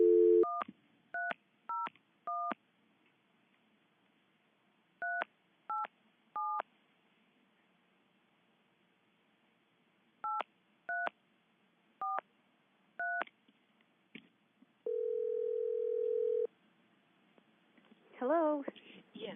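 Touch-tone telephone keys beep in quick groups of separate tones, then a steady ringback tone sounds as the call connects, with a faint voice answering at the end, all heard alone over a quiet line.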